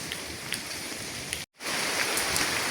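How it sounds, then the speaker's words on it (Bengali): Steady morning rain hisses down over a village market, close and even, with a few louder drips standing out; the sound cuts out briefly midway before resuming. "বৃষ্টি পড়তেছে"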